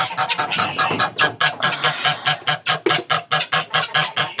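A laying goose on a farm with guinea fowl and other poultry honks repeatedly in a steady, rhythmic series of loud, close calls, with no talking.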